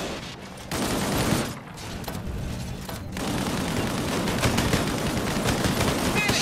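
Heavy, continuous gunfire in the Disintegration video game, with dense overlapping shots and occasional booms building into a steady, loud barrage.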